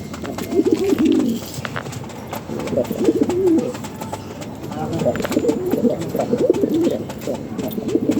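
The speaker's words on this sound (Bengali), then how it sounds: "এই যে কবুতরটা অনেক মারামারি করে।" Pigeons coo in low, throaty bursts nearby, repeating through the stretch over a faint background hum, while a person talks.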